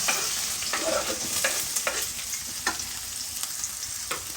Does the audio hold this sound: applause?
no